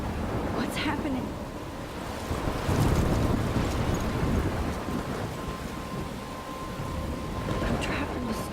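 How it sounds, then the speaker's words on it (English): Video game thunderstorm: constant pouring rain with deep rumbling thunder that swells around the middle, plus gusting wind, all sustained and loud with no pauses. "I'm trapped in the storm?"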